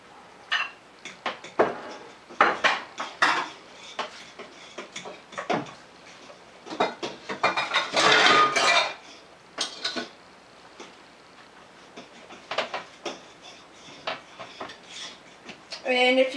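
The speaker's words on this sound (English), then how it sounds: "Then keep whisking it with the fork" A fork whisks pancake batter in a bowl, giving rapid, irregular metallic clicks and taps in uneven bursts, fairly close and moderately quiet.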